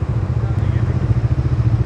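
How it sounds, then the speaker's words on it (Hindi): Bajaj Dominar 400 and 250 motorcycles idling together at close range, a steady low, lumpy engine throb with rhythmic pulsing and no speech over it. "तीनों बाइक स्टार्ट दे दिया है, इसको भी दे दिया है, डोमिनार को भी दे दिया है 400 को"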